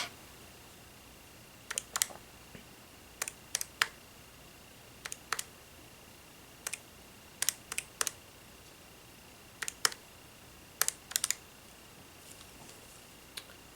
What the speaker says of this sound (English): I am going to explain the button presses that I put in the calculator